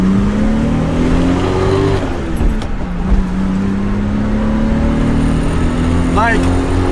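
A Datsun 280Z with about 200 horsepower revs hard in first gear, the engine note climbing in pitch, dipping briefly at a shift-like pause, then rising again, loud and close from inside the car.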